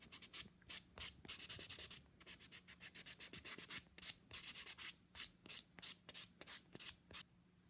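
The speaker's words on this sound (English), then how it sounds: "I'm just going to go in with my buffer and just buff over everything" Acrylic nails being buffed with a hand nail buffer, close and quiet: quick rhythmic rasping strokes in irregular bursts, some rapid runs and some slower passes, with no talking.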